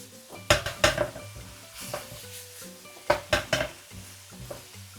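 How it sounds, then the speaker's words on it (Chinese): Green beans stir-fried over high heat with salt, sugar and oyster sauce sizzle steadily in a wok. A metal spatula scrapes and clanks against the pan in irregular bursts. "加適量的鹽，加一點白糖，再放1圈蠔油，大火翻炒"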